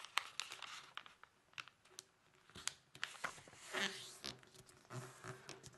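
Origami paper folded in half by hand, giving a run of quiet crinkles, soft creasing rustles and short papery snaps, close to the mic with no talk.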